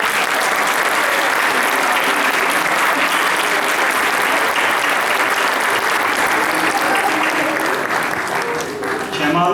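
A concert crowd greets a folk singer with loud, sustained, dense applause that holds at full strength throughout, with a few voices mixed into the clapping.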